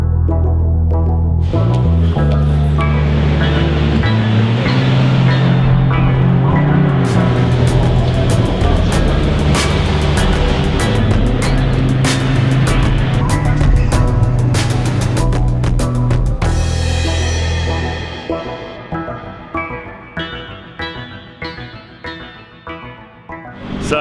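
A Citroen C1 race car in the Spa 24-hour endurance race, driving at night in heavy rain: a loud, steady engine drone with rushing wet noise over it. It eases and turns choppier near the end.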